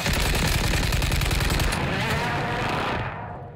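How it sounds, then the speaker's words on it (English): Rapid gunfire from a game match in Warzone's Fortune's Keep map, read as sniper fire, loud and dense for most of the clip before thinning and fading near the end. "we're getting sniped at right now"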